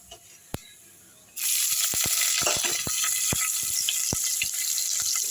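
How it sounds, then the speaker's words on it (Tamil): Chopped onions go into hot oil for a curry masala. After a quiet second, a loud continuous sizzle bursts in and keeps frying, dotted with sharp crackles and pops. "டக்குன்னு நம்ம வெங்காயத்தை போட்டுடலாம்"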